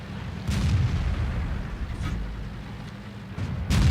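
A T69 tank cannon fires in World of Tanks. Two deep, heavy booms land about three seconds apart over a continuous low rumble of engine and battlefield noise.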